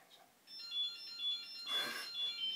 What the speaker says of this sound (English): Phone call! Phone call!